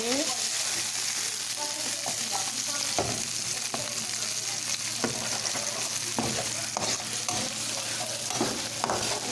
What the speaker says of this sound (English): To allow it our seasoning to saute